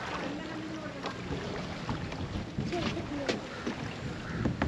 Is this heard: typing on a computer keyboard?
no